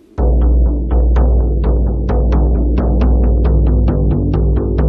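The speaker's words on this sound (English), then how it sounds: "typically through shamanistic cultures throughout the world, they use drums" A steady, repetitive drum beat pulses at an even pace, deep booming tones with sharp attacks, loud and continuous with no voices.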